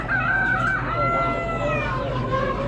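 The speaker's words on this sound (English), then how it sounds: "That's a cool chicken." A rooster crows among clucking chickens at an Amish animal auction, the calls rising clearly and fairly close over a busy background hum of the sale barn.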